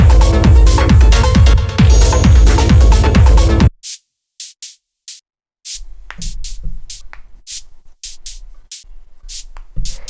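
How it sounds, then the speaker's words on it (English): Bursts of white-noise percussion from a raw, hypnotic techno synth patch, shaped with an amp envelope. A dense full mix plays first, then cuts to short, repeated hiss hits over sparse low thumps. "this is basically just made with white noise"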